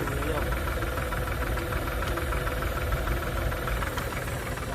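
A tractor engine chugs steadily at low revs in a slow gear, driving a sprayer off the PTO shaft, a continuous rumbling idle with a faint knocking rhythm throughout.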